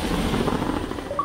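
Helicopter in the video game Homefront, a steady low rotor-and-engine drone filling the short clip at moderate, constant loudness, with a brief faint tonal blip near the end.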